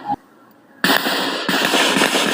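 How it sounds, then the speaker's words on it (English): Gunshots ring out in a conflict setting, an initial short crack followed by a pause, then two loud, sharp blasts with long rumbling tails that fill the rest of the moment. "Now shoot that gun."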